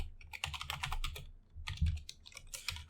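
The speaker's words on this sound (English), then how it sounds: "let's type some random name right here" Typing on a computer keyboard, a quick run of close, crisp key clicks in bursts with a short pause midway, no voices.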